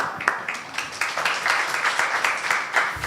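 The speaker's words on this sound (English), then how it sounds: "So I would like that you demand they be given a round of applause." A round of applause from an audience at a science forum, with many hands clapping in a brisk, fairly even rhythm that carries steadily from start to end.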